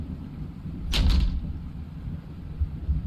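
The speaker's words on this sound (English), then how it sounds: "Without warning, the door behind us slams shut" Door slamming shut in a game, a single abrupt loud thud with a brief sliding rush, then low rumbling ambience.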